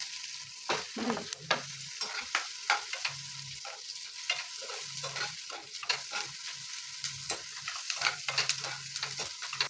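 Sliced onions and curry leaves frying in a pan, a continuous sizzle broken by frequent scraping stirs in an irregular rhythm, close and fairly loud, with no talking.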